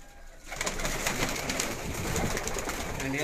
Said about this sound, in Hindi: सामने लाखा कबूतर है जी